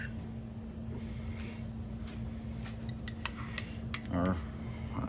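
A spoon clinks lightly against a plate as sauce is spooned onto grilled swordfish, several sharp metallic taps over a steady low kitchen hum.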